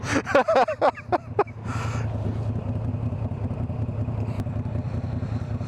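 Yamaha-style V9 Bobber motorcycle exhaust while riding, a steady close engine drone running under wind noise after a short burst of louder clattering revs at the start.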